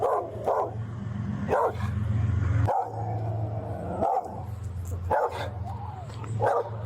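A dog barks repeatedly in short sharp bursts on a street, fairly close, over a steady low rumble of traffic or an idling engine.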